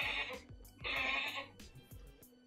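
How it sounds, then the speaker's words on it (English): A goat bleats through a Google Assistant smart speaker in two long, wavering calls followed by shorter fainter sounds, loud and close over a low background hum. "Here's a goat sound."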